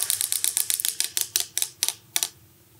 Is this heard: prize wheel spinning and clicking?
yes